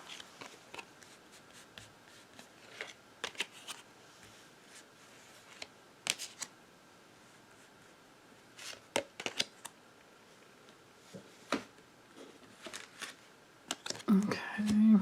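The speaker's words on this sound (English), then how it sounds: "Let me draw 5 more cards and see what's going on." Tarot cards are drawn one after another from a deck, producing faint, scattered card flicks and slides spread across a quiet stretch, with a brief voice near the end.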